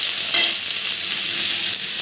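Garlic paste drops into hot oil with cumin seeds, setting off a loud, close, steady sizzle of frying that flares briefly at the moment of adding and then holds evenly.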